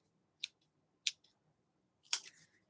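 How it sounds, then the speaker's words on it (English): Scissors snip through sewing threads on a fabric cinch bag: three crisp, close cuts spaced roughly half a second apart, the last one a longer double snip, in an otherwise quiet room. "I fold that in half and trim all my threads"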